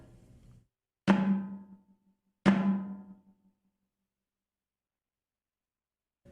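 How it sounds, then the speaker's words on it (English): Two separate strikes on a Pearl snare drum with the snares disengaged, giving a ringing tom-like tone pitched higher than a tom, each hit close and clear with a sustained decay and no wire buzz. "With the snares off, it'll sound similar to a tom-tom, but higher in pitch."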